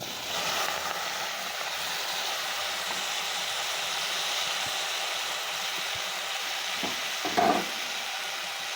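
Bitter gourd frying in oil with potato, onion, green chilli and ginger, a soft continuous sizzle heard close and fairly quiet, with a couple of brief clinks from utensils near the end.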